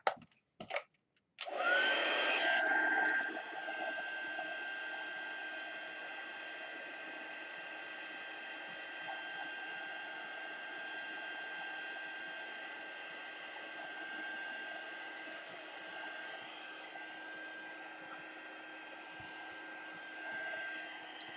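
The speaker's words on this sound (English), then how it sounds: "now while our heat gun's going" A heat gun starts with a couple of clicks, then blows with a steady, loud whirring roar and a thin whine on top, running continuously while tape on a watercolor painting is warmed.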